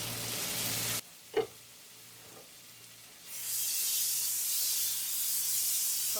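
Ginger garlic paste frying with onions in a pan, a steady loud sizzle and hiss that swells after a quieter stretch with a couple of brief clatters.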